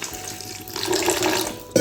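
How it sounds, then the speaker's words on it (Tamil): Water is poured into a fish head curry masala in a pan, a short running splash that swells and then cuts off near the end. "இதில் லைட்டாக தண்ணி விட்டுக்கலாம்"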